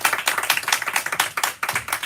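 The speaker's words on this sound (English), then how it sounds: "please give a round of applause for our guests this evening, Zoë Hitzig and Laura Kolbe." Brisk applause from an audience welcoming guests at an evening book reading and discussion, a dense patter of many hands clapping close by for about two seconds.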